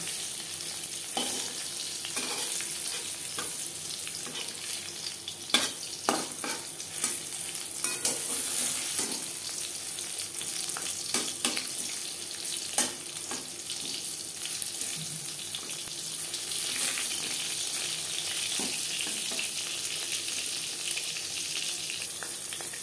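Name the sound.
pointed gourd (potol) frying in oil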